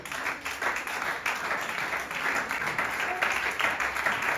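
A church congregation claps and applauds together in acclamation during a sermon, a steady, rippling burst of many hands lasting a few seconds at moderate volume.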